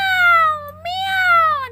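A voice imitates a cat meowing twice in quick succession, loud and close, with drawn-out, gliding mews.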